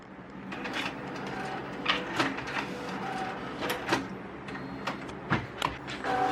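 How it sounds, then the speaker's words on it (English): A 3D printer in a home production setup starts a print, giving a steady mechanical hum with several short whirring and clicking bursts as the motors move, heard close up and alone. "The printer's going to start."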